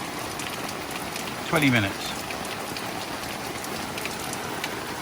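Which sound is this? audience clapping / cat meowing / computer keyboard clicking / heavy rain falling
heavy rain falling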